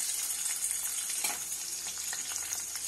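Green chillies frying in a pan, a constant quiet crackling sizzle with faint stirring scrapes.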